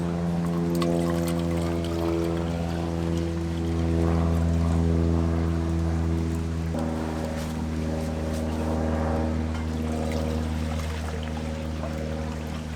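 One liter of water poured into a camping stove pot makes a continuous, close pouring sound over a low steady hum, lasting several seconds without talk.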